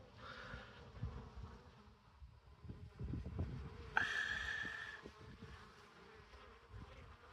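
Honey bees buzz around a beehive after rain, a soft continuous hum of many wings close by, with one louder bee whining past near the microphone midway.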